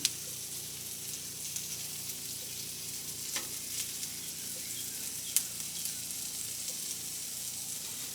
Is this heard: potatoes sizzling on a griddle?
yes